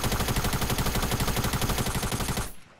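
Fast automatic gunfire in a shooter video game, a steady loud rattle of close shots aimed at trees that stops abruptly near the end.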